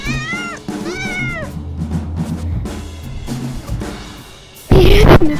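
Cartoonish cat meows from the video game Little Kitty Big City ring out in short rising and falling calls, several in a row, with game sounds and a burst of noisier effect near the end.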